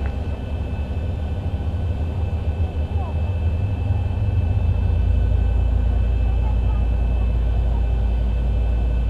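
Boeing 737 jet engines spool up in the X-Plane 11 flight simulator, a steady low rumble and whine that swells louder partway through and then holds, heard without talk.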